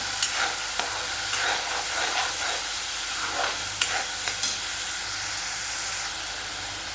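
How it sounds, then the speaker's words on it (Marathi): Ground masala sautéing in two spoonfuls of hot oil while being stirred for a chickpea (chana) vegetable curry, a steady close sizzle and hiss broken by light scrapes and clicks of the spoon, with no talking. "2 चमचे तेल टाकून मसाल्यामध्ये बारीक केलेला मसाला ॲड केला आहे. चांगला आपण परतून घेऊया."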